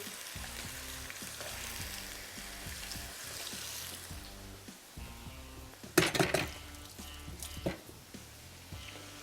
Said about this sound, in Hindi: और इसको ज़रा तेज़ आंच पे थोड़ा सा फ्राई करते हैं